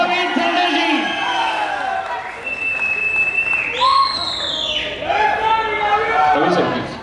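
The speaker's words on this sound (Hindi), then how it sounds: "एक बार जोरदार तालियां।" Crowd applause and whoops at a film trailer launch event for Aho Vikramaarka, a broad clapping wash running beneath loud amplified voices and shouts.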